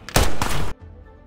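A short, loud burst of gunfire from the film No More Bets rattles for under a second, then cuts off abruptly into quiet.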